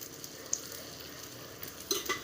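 Stale chapatis coated in gram flour fry in oil in a wok. The soft, continuous sizzle is faint, with a few light clinks near the end.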